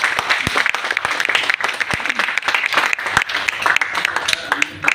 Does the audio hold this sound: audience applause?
yes